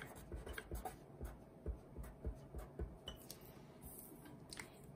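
Marker strokes scratching across paper for a kindergarten congratulations message, a steady series of short squeaky rubs and taps close by with no talking.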